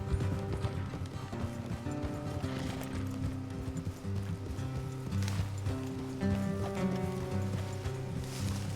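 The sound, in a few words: horses galloping, from video game Red Dead Redemption 2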